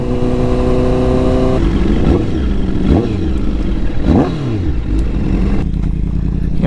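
A Honda CBR1000RR motorcycle fitted with an SC Project exhaust accelerates hard, engine pitch climbing and dropping through several quick gear changes, loud and close with a raw rasp and no talk.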